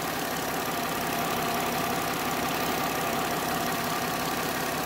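A 2010 Ford Fusion engine idles steadily and evenly nearby while still warming up, a constant mechanical hum and whir with no voices.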